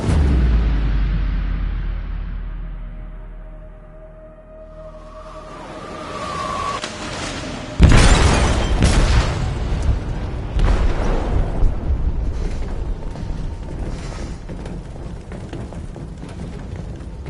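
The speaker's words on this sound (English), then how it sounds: "They detonated an explosive in the hold." A shipboard explosive goes off in the hold in Detroit: Become Human: a low rumble and a rising whine give way to a sudden heavy blast, then a long roaring, crackling aftermath.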